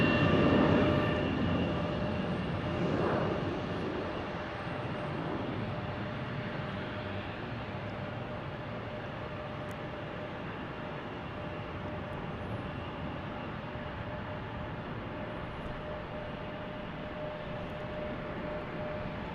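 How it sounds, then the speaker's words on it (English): An Embraer E175 jet departs Salt Lake City airport: a broad, steady engine roar, loudest at the start and then settling into a sustained distant rumble with a faint tonal whine. "Here's our Embraer E175 departure."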